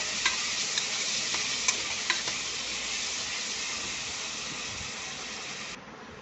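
Masala frying and sizzling in a pan for a brinjal curry, with steady broadband hiss throughout, occasional spatter pops and stirring clicks, cutting off slightly near the end.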